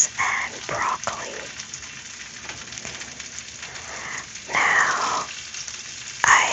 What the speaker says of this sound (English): place some olive oil on it, and we're going to start sauteing our potatoes and broccoli.